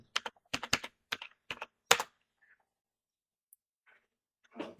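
Quick bursts of key presses on a computer keyboard while a search is entered, close and crisp clicks clustered in the first two seconds, then a few isolated taps in near silence.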